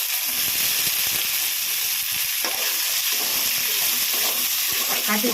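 Curry leaves dropped into hot oil for brinjal kara kuzhambu, a loud, continuous crackling sizzle with scattered pops and stirring throughout.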